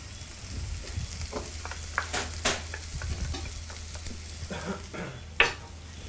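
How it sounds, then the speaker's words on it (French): Chopped parsley is stirred into a cooking pan while preparing a sea urchin cassolette, giving soft scraping strokes and occasional clicks over a low, steady sizzle, fairly quiet and close. "je vais rajouter mon persil que j'ai au préalablement émincé"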